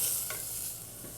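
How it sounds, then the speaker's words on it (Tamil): Garlic and ginger paste sautéing with onion in a pan for broccoli rice, a soft steady sizzle with a couple of brief stirring scrapes, close and quiet with no talking. "இப்போ இதையும் வந்து ஒரு நிமிஷம் வதக்கினா போதும்."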